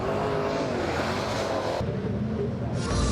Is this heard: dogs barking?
no